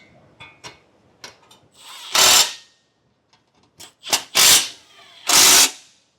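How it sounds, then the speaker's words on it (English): Screws being driven to fasten a skid plate onto a base plate on a 2025 Jeep Wrangler, heard as several loud bursts of a power tool with short ticks and rattles in between, close by and without talk. "we'll install it using the screws that we removed off the old skid plate"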